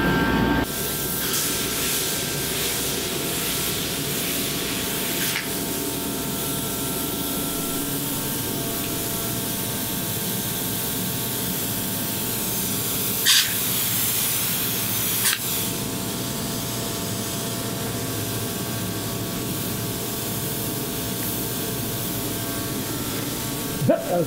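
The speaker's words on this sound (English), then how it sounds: "Spray foam will stick to the studs." Open cell spray foam insulation hisses steadily as it is sprayed onto wooden wall studs in a cool building, a continuous broadband spray with brief pauses and a couple of sharp clicks.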